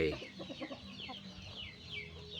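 Young hens ready for breeding clucking quietly in short bursts, with someone talking close by over them.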